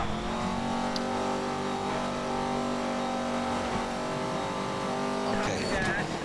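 Bugatti supercar drifting in Need for Speed: Most Wanted (2012), a steady loud engine drone with sustained harmonic whine throughout, a brief tire screech near the end, with a voice talking over it.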